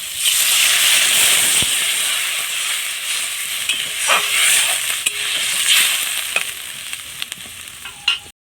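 Amaranth stem greens cooking in a hot pan at home, with chili powder and water added: a steady, loud sizzle and hiss of frying runs throughout, with occasional light clinks from stirring.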